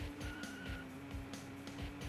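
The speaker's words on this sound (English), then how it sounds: "We've got to just slam on the brakes." Car tires in the Hooters Road Trip video game squealing under hard braking, a thin sustained screech over a pulsing engine rumble with repeated thumping beats underneath.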